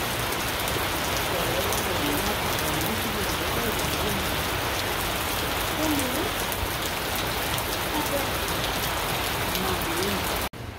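Steady rain pours outside a house in the evening, a dense, even hiss of drops on surfaces that continues without break until it cuts off abruptly near the end.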